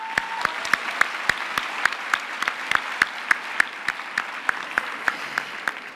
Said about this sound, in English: So I would like to give them a warm hand of applause.